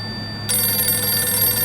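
Telephone ringing unanswered, a steady electronic ring starting abruptly after a quiet moment and continuing, close and fairly loud with no voices.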